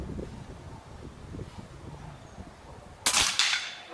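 A Reximex Accura 5.5mm PCP air rifle, charged to 250 bar, fires once outdoors. A single sharp, loud crack and a short trailing snap cut through a quiet, wind-brushed background.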